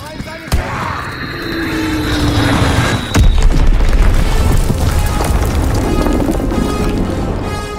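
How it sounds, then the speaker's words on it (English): A Fritz X guided bomb drops and explodes in Call of Duty WW2, a sharp boom followed by a second heavy blast at mid-clip, then a sustained loud rumbling roar with wind-like noise. "Dropping Fritz X bomb."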